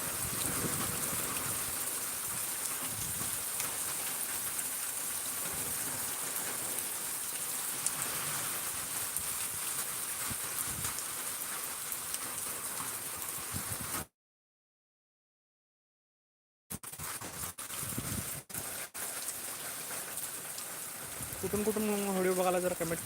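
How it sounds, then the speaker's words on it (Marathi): Heavy monsoon rain pours steadily in a broad, loud hiss that runs unbroken and close for most of the stretch, drops out briefly, then returns with a few sharp spatters while a voice talks over it. "अर्धा तास झालं जबरदस्त पाऊस पडायला"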